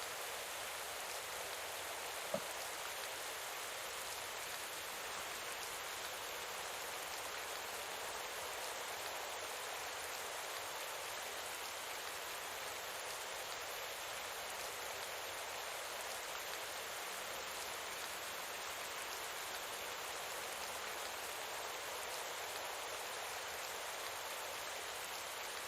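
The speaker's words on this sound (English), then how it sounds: "Raining. Bad for my RDCs." Rain falls in the Pro Cycling Manager cycling game as an even, continuous hiss of drops on a surface, faint and unchanging throughout, with no voices over it.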